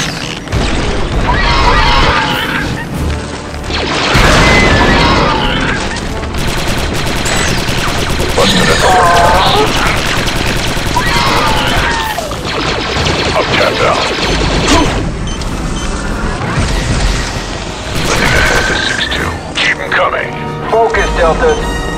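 Rapid blaster fire from a Star Wars: Republic Commando squad fight crackles in dense bursts, mixed with booms and crashes throughout, while squad voices call out over the din.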